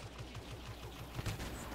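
Blaster cannon firing in the Star Wars Battlefront video game: a steady run of rapid, low-pitched shots with a heavier burst near the end, loud against dense battle ambience.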